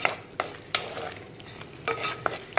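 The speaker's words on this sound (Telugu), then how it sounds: "ఉల్లిగడ్డ వేగింది" Onions frying with ginger garlic paste in oil in a pan, for a crab curry, with a steady close sizzle broken by several sharp scraping stirs of a spatula.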